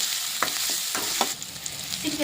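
Sizzling ginger garlic paste frying in a pan, broken by several distinct scraping strokes of a spoon stirring it, close and fairly loud.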